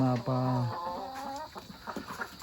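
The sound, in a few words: chickens clucking on a farm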